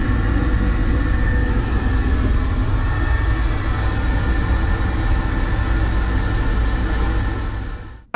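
An SBB New Pendolino tilting train runs steadily at speed, a continuous loud low rumble and rolling hum from inside the coach that holds level throughout before fading at the very end.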